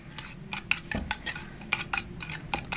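A spoon clinks and scrapes against a bowl while a homemade hair removal paste containing toothpaste is mixed, a quick irregular series of close, light clatters.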